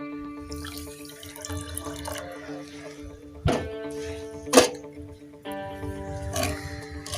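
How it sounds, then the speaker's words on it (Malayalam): Water poured from a tap or jug into a heavy-bottomed pan of sugar on the stove to start a syrup for laddu, a steady close trickle with a couple of sharp clinks and splashes along the way. "ഇത് നികക്കെ വെള്ളം ഒഴിക്കുക."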